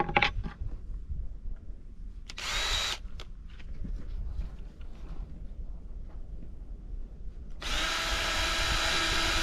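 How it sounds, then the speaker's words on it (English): Power drill driving screws while building a wooden gravity deer tube feeder, whirring in short bursts, then a sustained loud run near the end, with clatter and handling noise between. "Put that drill bit back in here."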